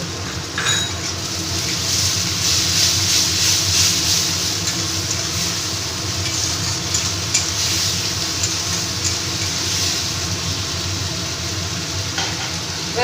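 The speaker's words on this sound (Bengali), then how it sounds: "আর এই আদা রসুন পেস্টটাকে দিয়ে দিচ্ছি দিয়ে আমি ভালো করে একটু ভেজে নেব" Ginger-garlic paste frying in a pan for a Bengali bhetki fish-bone chorchori, a steady loud sizzle with faint stirring clinks throughout, close and continuous, no talking.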